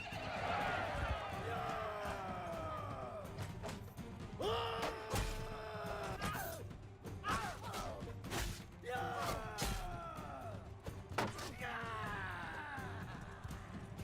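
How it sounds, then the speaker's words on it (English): Horse neighs and whinnies in the Bannerlord video game, several rising and falling calls spread through a busy battle mix of thuds and clatter, with a voice talking over it. "Ooh, a horse."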